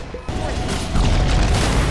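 Dense, rumbling explosions and crashing blasts in a Dota 2 match fill the scene continuously, loud and chaotic, with no pause between bursts.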